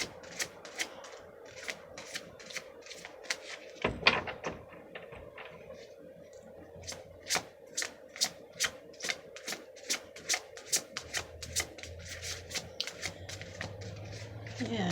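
Tarot cards being shuffled and drawn for a quick Easter reading, giving a steady run of crisp, close flicking snaps and soft rubbing, with a person talking quietly underneath.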